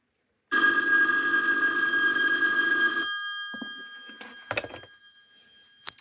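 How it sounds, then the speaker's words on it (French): Loud, piercing electric bell ringer of an S63 emergency call telephone, a roadside unit with two preprogrammed call buttons, ringing steadily for about two and a half seconds, then cutting off, followed by a few faint clunks. "C'est la sonnerie du S63 bien sûr."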